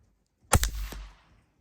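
A single close, sharp pistol shot fired at a one-inch target square with cheap rounds, a hard crack followed by a brief echoing decay.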